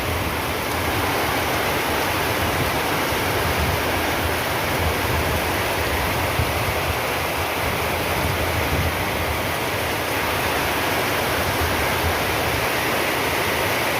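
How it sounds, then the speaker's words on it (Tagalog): Dense, sudden heavy rain roars continuously as a broad hiss over a rural yard, with no breaks and no voices. "Bigla lang umulan ng lakas mga kaibigan."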